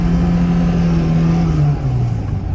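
A VAZ Zhiguli engine with a knocking motor revs hard while drifting, a loud, close, sustained drone that holds steady and then drops in pitch near the end, with no talking.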